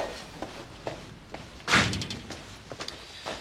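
A door is shut in an indoor scene from a French police drama, giving one loud thud near the middle amid quieter room sounds and light footsteps.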